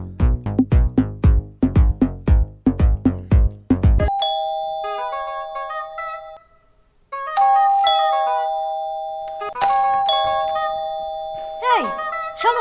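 A home doorbell rings over and over in quick succession, a run of bright, loud chimes, then gives way to longer sustained ding-dong tones that repeat several times, close and clear.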